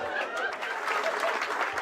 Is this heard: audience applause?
yes